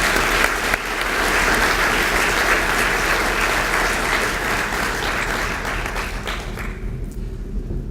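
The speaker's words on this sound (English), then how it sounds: "So I would ask that you give another round of applause for Brian Figgin to show our appreciation" Loud, dense applause from a large crowd at an annual dinner fills the room, holding steady for several seconds before thinning out and fading near the end.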